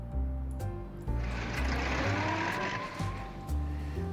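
A car's engine hums and shifts gear repeatedly while driving through a city in City of Gangsters, with occasional tire squeal, steady and moderately close, no one speaking.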